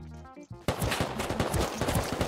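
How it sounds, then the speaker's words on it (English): Rapid bursts of gunfire from a Rust match crackle loud and close after a brief quiet tonal lead-in, shots overlapping into a dense, continuous fusillade. "I hear gunshots."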